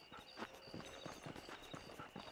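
Horse hooves clip-clopping at a steady trot in the Western video game Red Dead Redemption, a quick rhythmic patter of hoofbeats, fairly quiet and close, with no talk over it.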